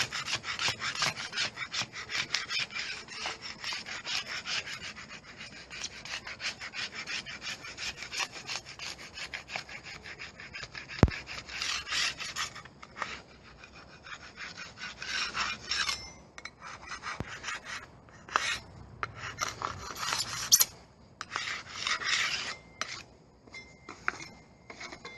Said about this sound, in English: Removing these strips off the back edge of the trim is a lot easier.